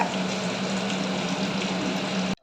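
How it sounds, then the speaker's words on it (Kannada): Samosa dough pieces frying in hot oil, a steady dense sizzle that holds loud and even throughout before cutting off abruptly at the very end. "ಇವಾಗ ಎಣ್ಣೆಗೆ ಹಾಕಿ ಫ್ರೈ ಮಾಡ್ತಾ ಇದ್ದೀವಿ"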